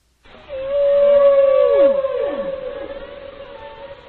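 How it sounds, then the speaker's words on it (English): A humpback whale sings alone in a long, tonal moan that holds steady, then bends and slides downward into lower groans, loud and close with a faint wash behind it. "I can even listen to a humpback whale."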